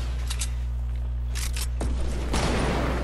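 Gunfire in a squad match of a shooting video game, a dense burst of rapid shots over a steady low hum, with a sharp crack midway and louder, busier firing near the end.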